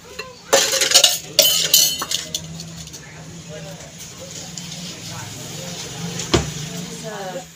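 Dishes and cutlery being washed, with clattering clinks of metal and crockery in bursts over the first couple of seconds and another clink later, while someone talks throughout.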